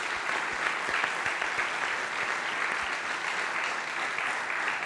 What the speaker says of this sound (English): So again, we really appreciate you taking time out of your studies, your work, your trainings to come hang out with us the last 2 days.